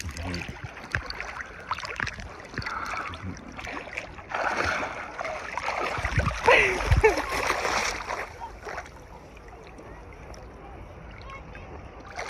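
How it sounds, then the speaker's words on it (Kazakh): Waves on Lake Balkhash washing and splashing over a shallow, fine sandy shore, close and choppy with surges of louder splashing, while people talk over it. "Қазір толқындар көтеріліп кеткен."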